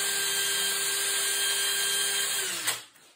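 Power drill boring a hole in a wooden desk chair part, a steady close high whine that holds for nearly three seconds before the bit stops and spins down.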